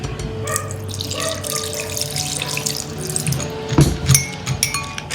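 Water runs from a tap into a pot of mango rasam, a continuous splashing pour with a few louder gurgles and drips near the end.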